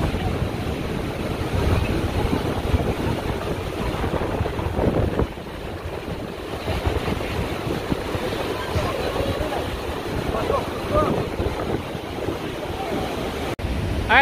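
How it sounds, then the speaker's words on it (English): Strong wind buffets the microphone in rough, gusty rumbles in Yosemite, with water and surf faintly beneath and occasional voices. "it's so windy"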